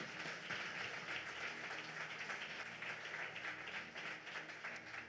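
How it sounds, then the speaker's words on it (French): A church congregation applauds together during a sermon, a steady wash of many hands clapping that holds at an even level throughout without pause. "Est-ce que tu peux applaudir l'Esprit de Dieu?"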